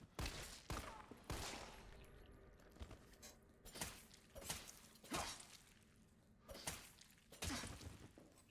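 Gunfire in Resident Evil 3 comes as a series of sharp, separate shots spaced about a second apart, fairly faint, with metallic clatter between them.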